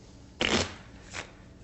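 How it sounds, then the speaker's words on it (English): A deck of playing cards is shuffled close up during a magic trick, with a brisk riffling burst followed by a shorter second flutter, in an otherwise quiet room. "give the cards a shuffle"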